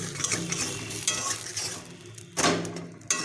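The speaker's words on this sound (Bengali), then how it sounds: "আঁচটা কম করে আর একটু ভাজবো" Cabbage fritter frying in a little oil in a pan on low heat, a steady soft sizzle with scraping stirs and a couple of sharper utensil knocks near the end.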